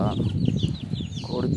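Young chicks clucking and peeping in a poultry setting, a steady busy chatter of small birds heard close, with someone talking over them.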